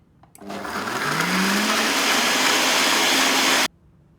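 A countertop blender whirs loudly as it blends a smoothie, starting abruptly, holding a steady high-speed roar with a rising motor pitch for about three seconds, then cutting off.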